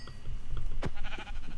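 Sheep bleat in the Minecraft video game, a sharp bleat standing out over steady game background noise, followed by a couple of fainter calls.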